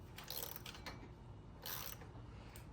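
A puller tool slowly wrenches a pulley off a Nissan S13 while a screwdriver wedged in place holds the pulley still. Two faint ratcheting, clicking bursts sound over a low background hum.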